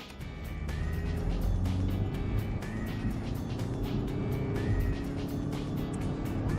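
A diesel Vauxhall Astra sits at about 2,000 revs in third gear as its sports mode engages, the engine holding a steady, rumbling drone with slight rises in pitch, heard from inside the car with no speech.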